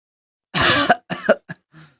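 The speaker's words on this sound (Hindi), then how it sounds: "अरे क्या हो गया, खांसी क्यों आ रही है भाई?" Close coughing, one longer cough followed by several shorter hacking bursts that trail off quietly.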